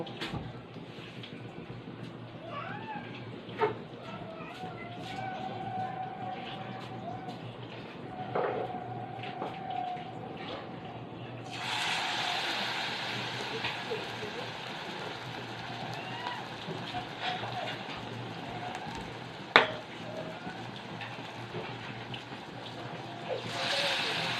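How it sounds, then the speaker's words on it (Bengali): Stuffed pointed gourd with a shrimp filling, coated in ground rice paste, goes into hot oil: a faint frying murmur suddenly swells into a loud, steady, close sizzle that continues alone until the end. "তেলটা গরম হয়ে গেছে, এবার পটলের পুরে চাল বাটা লাগিয়ে ভেজে নেব।"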